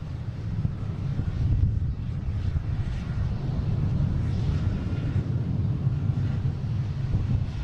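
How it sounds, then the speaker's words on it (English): An SAS Airbus A330-300 takes off at Boston Logan airport as a distant, steady low jet rumble mixed with wind buffeting the microphone. "There we get SAS taking off, hitting the Copenhagen, A330-300."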